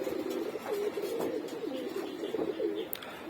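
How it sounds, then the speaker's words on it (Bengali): Pigeons being flown at a neighbouring house coo in repeated soft, throaty phrases, close and fairly clear over faint background noise, with no talking. "এই যে আমার পাশের বাড়ির এক ছোট ভাই কবুতর উড়াচ্ছে।"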